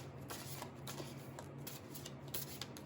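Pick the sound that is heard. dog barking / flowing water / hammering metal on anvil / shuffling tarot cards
shuffling tarot cards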